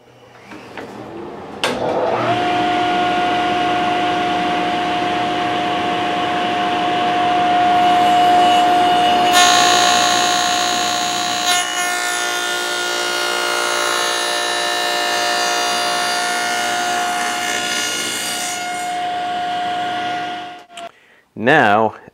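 A table saw cuts partway into the corners of a wooden case, with the blade set to half depth, giving a loud, steady whine that rises in pitch and intensity while the cut is made, then spins down.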